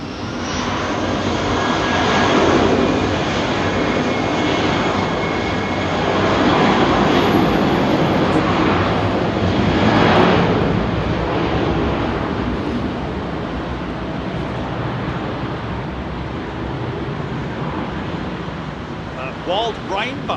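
Airliner passing close by on runway 27R at London Heathrow Airport, a loud sustained engine roar that swells and fades over many seconds, with voices faintly under it.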